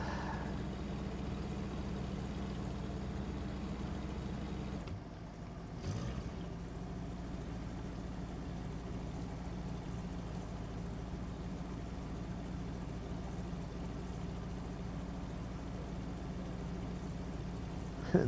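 A truck engine idles in a video game as a low, steady drone that runs throughout at modest volume, dipping briefly near the middle before settling back into the same even hum.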